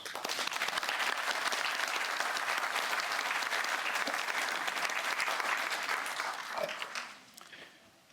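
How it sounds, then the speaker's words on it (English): A round of applause for Amy Bosnett from the audience at a Memorial Day service with street sign dedications in Edison: thick, continuous clapping from many people, holding steady for several seconds before thinning out and fading near the end. "Can we give Amy Bosnett a round of applause?"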